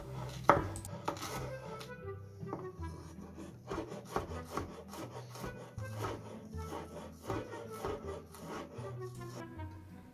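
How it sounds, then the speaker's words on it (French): A knife coarsely chopping a shallot on a board, giving a quick run of irregular dry taps and scrapes, close and fairly quiet, with no voices. "On va commencer à hacher grossièrement une échalote"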